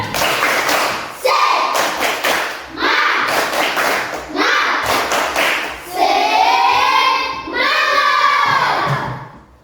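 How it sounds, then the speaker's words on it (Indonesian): A school class in Indonesia claps out a rhythmic spirit cheer in short repeated bursts, with children's voices shouting and chanting along, loud and close, the last stretch dominated by the group's sustained shouting. "Tepuk semangat."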